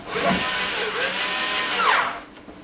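A cordless drill whirring close by in short bursts, its motor pitch rising and falling as it drives screws, then winding down.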